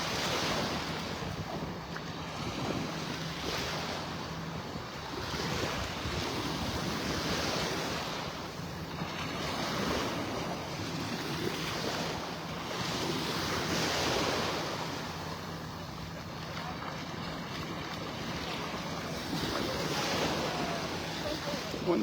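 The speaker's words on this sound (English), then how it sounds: "Nice little breeze coming out of the north" A steady breeze blows from the north across Vanderbilt Beach in North Naples, Florida, roaring broadly over rolling surf that swells and fades throughout.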